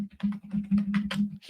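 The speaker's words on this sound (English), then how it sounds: "He's typing. That's that noise." Someone types quickly on a computer keyboard, a close run of irregular clicks and taps over a low steady hum, with no talking.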